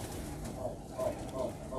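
Soft, low pigeon coos repeat a few times against a steady rumbling background, fairly close and gentle.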